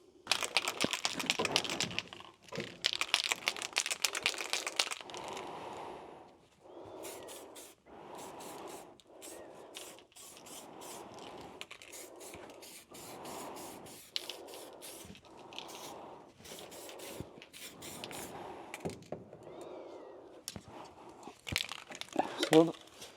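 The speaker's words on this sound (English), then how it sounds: "we've just got some gray primer that we're going to squirt on there" Gray primer sprayed from a can onto bare metal on an early second-generation Camaro center console, heard as a series of short hissing bursts separated by pauses, close and fairly loud, with someone talking between and over the bursts.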